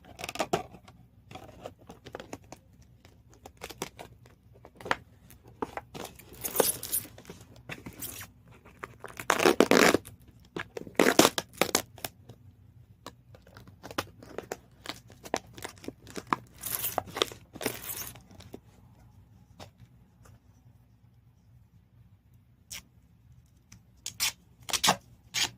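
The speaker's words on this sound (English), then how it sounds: "then we will tape it closed" Packing tape is pulled off the roll and pressed down to seal a winter-sowing seed container, heard as scattered ripping screeches and crinkly handling sounds, close and intermittent, with quiet gaps in between.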